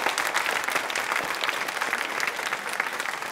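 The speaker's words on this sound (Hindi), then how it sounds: "तालियां जोरों से बजाइए आपके सम्मान में" An audience at a women's association quiz show claps steadily in honour of a guest, a dense, even round of applause filling the whole stretch with a faint crowd murmur beneath.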